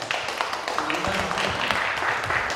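A church congregation at a thanksgiving service applauds, a steady wash of many hands clapping together, moderately loud and filling the room for a couple of seconds.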